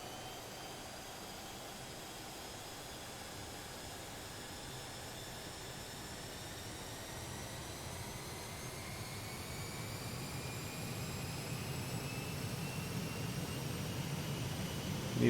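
Jet engines on an Aerosoft DC-8 in the Prepar3D flight simulator build through a takeoff roll, a steady roar with rising whine tones that grows louder throughout.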